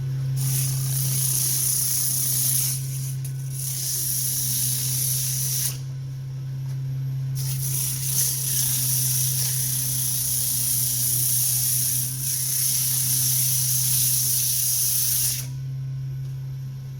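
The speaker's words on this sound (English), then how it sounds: "We're going to start sanding again, not put so much pressure on it this time." Sandpaper is pressed against a wood-turned cup spinning on a lathe, giving a loud, continuous abrasive hiss over the machine's steady low hum, with brief breaks where the paper lifts away.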